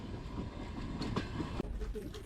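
An electric commuter train bound for Lviv sits at a station, its steady rumble and clatter filling the scene while people talk nearby.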